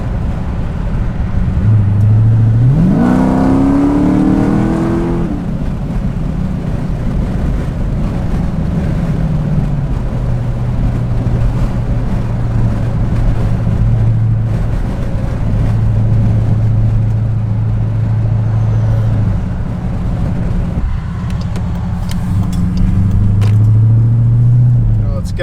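Road and tire noise from Lionhart LH-Five run-flat tires on a moving car, a steady loud rumble with wind noise throughout, with a rising engine tone near the start and a low drone that holds through the drive.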